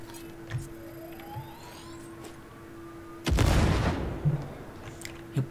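A single loud grenade blast in Cyberpunk erupts after a quiet stretch of hum and faint rising tones, then a rumbling tail fades over a second or two.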